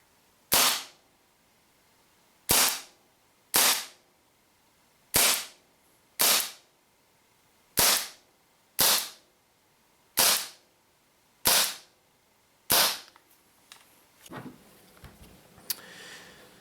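A WE Tokarev TT33 green gas blowback airsoft pistol firing 0.2 BBs: ten sharp, loud cracks at uneven intervals of about a second, close by, then quieter handling clicks and rustles at the end.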